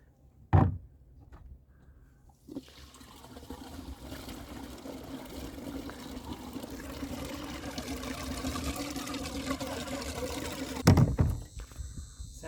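An RV waste tank is poured into and drained, giving a steady rushing, trickling flow of liquid that builds over about eight seconds, with sharp clunks of fittings at the start and end and no talk.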